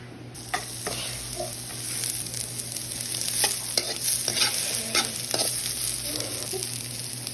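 Isaw (grilled intestine) frying in a pan, stirred throughout: steady close sizzle with repeated scraping and clinking strokes of a utensil over a constant background hum.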